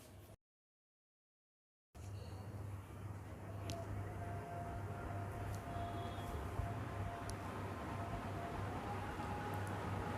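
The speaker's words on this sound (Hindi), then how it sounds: "आपको पंखे की आवाज़ सुनाई दे रही होगी हवा की।" A low, steady whoosh of an electric fan blowing air on a slow setting, continuous and fairly faint after a brief silence at the start.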